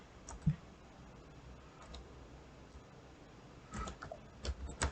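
Someone types on a computer keyboard while writing Python code. Soft, quiet key clicks come in short bursts near the start and at the end, with a calmer stretch between. No talking.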